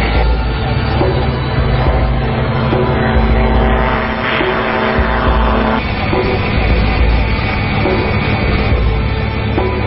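A gyrocopter taking off, its propeller engine droning loudly and steadily throughout, with a slight shift in pitch partway through.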